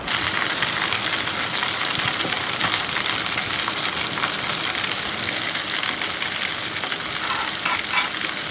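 Coral fish deep frying in hot oil, a dense, continuous bubbling sizzle heard close and loud, with small crackles and pops scattered through it and no talking.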